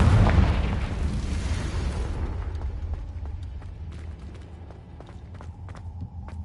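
A Confringo blasting spell explodes in Hogwarts Legacy, a loud deep boom at the start that rumbles and fades over several seconds, with faint crackling debris afterward.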